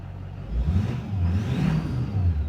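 Duramax diesel truck engine breathing through a 4-inch straight pipe, a deep, throaty low rumble that swells and surges in short revs for a couple of seconds, loud and close, no voices.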